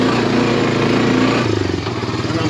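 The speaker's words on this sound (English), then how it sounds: "I'm digging all this out with the tractor." A tractor engine chugs loudly and close while digging clay out beside a pond, the steady rumble shifting and pulsing as it works the load.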